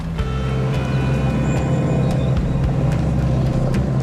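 Range Rover Sport crawling off-road over a cross-axling hump, with a steady low engine drone and scattered creaks and knocks from the body and suspension.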